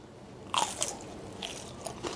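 Someone bites into a crispy batter-fried banana coated with coconut and sesame, giving one loud, close crunch followed by a few softer crackling chews.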